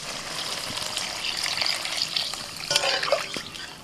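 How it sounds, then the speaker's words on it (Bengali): Coconut milk poured into a hot pan of fried mustard, fennel and cashew paste for a Bengali prawn malai curry, a steady liquid gush and sizzle with light stirring, close and moderately loud, no talking. "এবার দিয়ে দিচ্ছি নারকেলের দুধ।"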